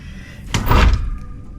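Hotel closet double doors with a full-length mirror, in a Fairmont Vancouver Airport room, open with a single short wooden thunk and swish. The sound is close and moderately loud and stands alone.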